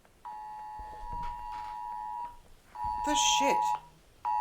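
A phone blaring an emergency flood warning alert, a loud harsh repeating two-tone beep sounded in two bursts with a short gap between them, while someone speaks briefly over it.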